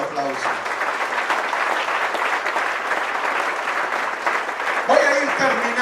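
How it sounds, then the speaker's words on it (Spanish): A church congregation claps loudly during a Spanish-language sermon, sustained and full throughout, with a voice speaking over the clapping near the end. "Dale fuerte ese aplauso."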